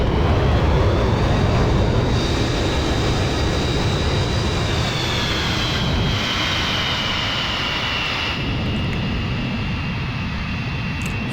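Avro Vulcan B2 jet aircraft in Microsoft Flight Simulator, a loud continuous roaring jet engine drone with a steady whine that shifts slightly in pitch, heard alone.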